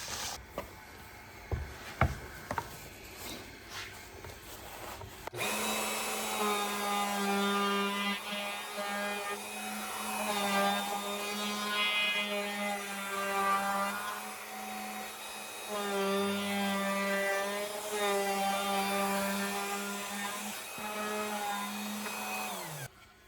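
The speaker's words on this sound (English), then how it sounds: "I'm going to take my 1/4 inch round over and round the inside and the outside" A router fitted with a quarter-inch round-over bit shapes the inside and outside edges of a wooden piece, starting after a few seconds of clatter and then whining steadily with slight pitch wobbles as it cuts.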